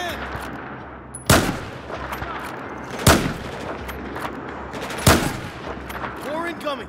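Battlefield 4 gunfire sounds as three sharp, loud shots spaced roughly two seconds apart, over a low rumbling background with faint voices.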